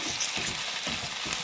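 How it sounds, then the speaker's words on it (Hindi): Fish frying in oil in a pan over low heat, a steady soft sizzle with faint crackles throughout, no voices. "तकरीबन 4-5 मिनट तक इसको हल्की आंच पे अच्छी तरह फ्राई करना है"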